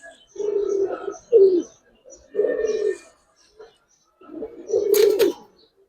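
Several close coos from Giribaz pigeons come in separate phrases of soft, rolling throaty notes, with a brief brighter rustle near the end.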